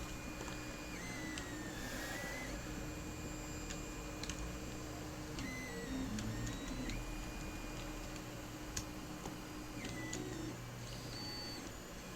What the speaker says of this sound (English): Printer should now behave.